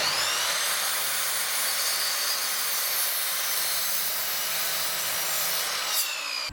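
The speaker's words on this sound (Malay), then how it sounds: "tapi sebab saya ada miter saw ni, saya pakai miter saw lah." A miter saw whines steadily through wood for several seconds, a bright continuous buzzing rasp that cuts off near the end.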